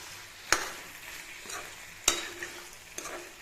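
Chicken fries in a pan over low flame for an Assamese-style dry fry as a spatula stirs it, with two sharp scraping strokes and a few lighter scrapes over a soft, steady sizzle, and no voice.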